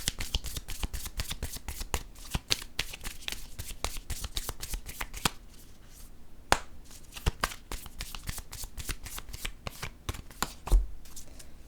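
Oracle cards shuffled by hand in a steady run of quick, crisp riffling snaps, close and fairly loud, with a brief quieter lull midway and no talking.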